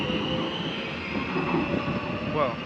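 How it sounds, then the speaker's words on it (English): A Warsaw Metro subway train runs along the track with a steady, loud rumble and a faint high whine, and a brief wheel squeal rises near the end. "This is the Warsaw Metro"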